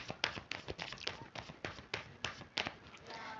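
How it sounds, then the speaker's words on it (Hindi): Tarot cards are shuffled by hand, a series of soft, quick riffles and taps in an uneven rhythm, close but quiet, with no one speaking. "I'll shuffle the cards one more time"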